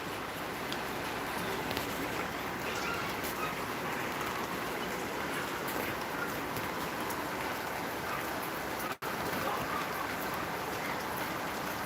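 Steady rain falling outside a house during a spell of rain and wind with flooding; a dense, even hiss of rainfall continues for about twelve seconds at moderate distance, briefly dropping out once near the end.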